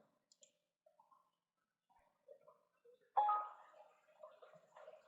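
Computer mouse clicks while selecting in CATIA, a sparse run of light, sharp taps at close range with uneven spacing, plus a short louder rustle of handling midway, no talking.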